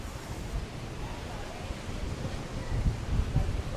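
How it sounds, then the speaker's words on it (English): Strong, breezy wind blows at Playa del Carmen just after Hurricane Beryl, a steady roar of rushing air with low rumbling gusts that swell louder toward the end, with no talking. "we did just have a hurricane pass through, so it's breezy to say the least"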